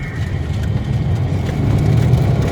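A 2012 Corvette Z06 engine runs with a deep, steady low rumble that swells slightly louder toward the end, close and continuous with no talking over it.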